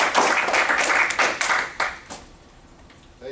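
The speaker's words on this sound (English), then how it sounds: "Give them a round of applause." A short burst of audience clapping at the end of a meeting quickly thins to scattered claps and then fades out, followed by a faint sound near the end.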